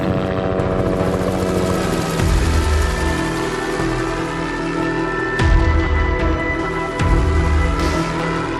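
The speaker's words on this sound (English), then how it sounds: "The helicopter is airborne and they are igniting test fires at this time." A helicopter flies nearby over a wildfire operation with a steady, loud rotor thrum and turbine whine, its pitch shifting slightly as it moves.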